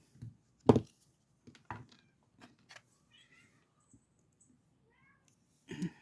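A cat meows faintly a few times amid quiet scattered clicks and small handling noises, mostly soft with brief louder moments.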